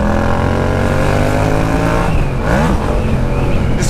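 A Yamaha MT-07 motorcycle engine revs hard close by, a loud continuous roar that climbs and swoops in pitch through repeated throttle blips.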